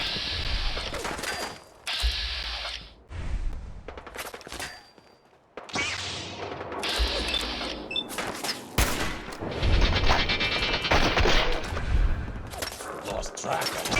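Rapid bursts of gunfire from the Fallout video game crackle in loud, irregular volleys with brief pauses, mixed with booms and clattering impacts, while a voice talks over parts of it.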